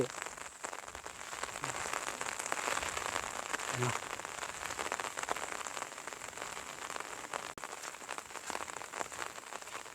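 Steady rain patters on a surface at a rice farm in Isan, northeast Thailand, a dense continuous hiss of drops close by, with a few louder taps mixed in.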